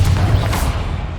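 A Confringo blasting spell in the Hogwarts Legacy video game detonates as a short, heavy, booming blast with a deep rumble that fades over about a second.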